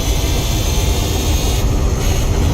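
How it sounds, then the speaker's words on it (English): A loud, steady high-pitched race car engine whine in the video game Gran Turismo 4 drones without letup, dense and harsh, with no voices. "the car's engine is actually screaming a lot"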